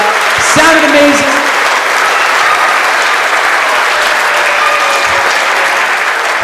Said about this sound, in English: let's give another round of applause for the fourth grade